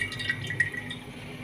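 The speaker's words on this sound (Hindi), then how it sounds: "ये जो हमने ऑयल स्टेन किया है इसको दोबारा से इसमें डाल देंगे" Strained oil trickles back into a wok on the stove, a short close pour with soft liquid drips and splashes.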